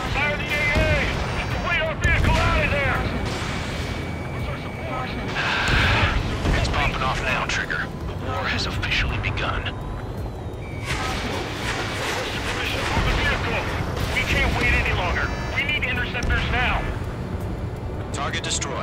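Anti-aircraft gunfire and explosions in the video game Ace Combat 7, a dense continuous barrage of booms and rumbling blasts running the whole time under loud in-game radio chatter and music.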